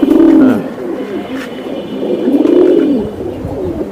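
Giribaj pigeons coo up close, two distinct low rolling coos standing out over a soft background murmur.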